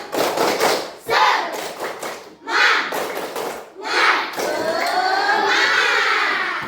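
Schoolchildren in an Indonesian classroom perform a rhythmic spirit clap, with bursts of group clapping and chanted voices in a steady pattern, close and loud.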